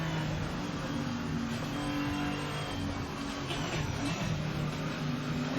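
The engine of a BMW race car in a racing video game drones steadily and loudly throughout, without pause or speech, as the car closes in during a race.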